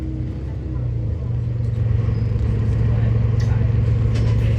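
Volvo Wright Eclipse 2 bus making an odd noise as it pulls to a stop, heard from inside as a steady low engine drone with a sustained hum under faint background chatter.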